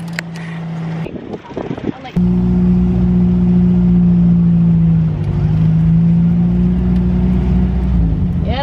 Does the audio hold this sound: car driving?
yes